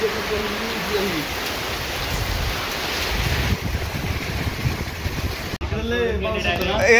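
Strong wind ahead of heavy rain outdoors, a steady loud roar buffeting the microphone throughout, with brief voices at the start and end.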